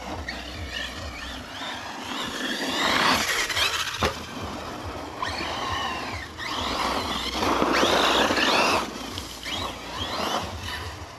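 A Hobao Skater RC car's engine revving in repeated short throttle blips, a loud buzzing whine rising and falling in bursts close by, with no talk.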